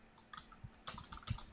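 A brief burst of soft keyboard typing as text is entered into Google Sheets, with a few quick, close, quiet key clicks and no talking.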